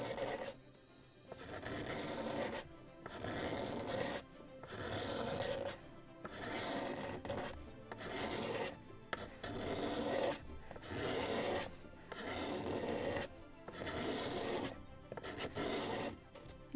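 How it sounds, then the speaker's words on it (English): Wooden planking on a model of the 1776 gunboat Philadelphia is scraped and sanded by hand in steady back-and-forth rasping strokes, about a dozen rhythmic passes, close and fairly quiet with brief pauses between them. "I also can do the same for the planking if it is too much of sanding. First to scrape it and then sand it."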